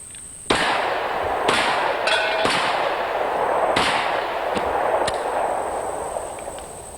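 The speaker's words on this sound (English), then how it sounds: "So friends, let's do a little bit of what this little gun is designed, in fact, to do. Let's shoot it." A Smith & Wesson 3914 9mm pistol fires about seven sharp shots at irregular intervals, each a loud crack with a brief ringing echo over faint background noise, plus a steady high tone.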